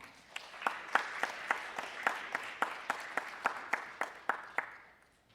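Audience applause at the opening ceremony of a children and youth council in Gwangju, heard as a steady crowd clapping with sharp rhythmic claps standing out, moderately loud and with no talking.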